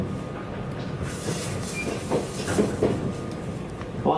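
A JR West Sanyo Line local train runs on rails between Iwakuni and Hiroshima, a steady rolling rumble with rhythmic clickety-clack and faint wheel squeal, heard from inside the car with no talk.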